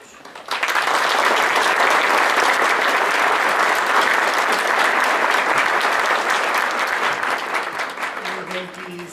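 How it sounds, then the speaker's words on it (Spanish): Loud, sustained applause from a lecture audience at a talk on natural hazards, breaking out abruptly and holding steady for several seconds before easing slightly. "pido un muy caluroso aplauso"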